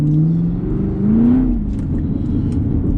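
A 2023 Chevrolet Camaro engine is heard up close and loud as it revs up and down in a rising and falling drone with a steady low rumble underneath.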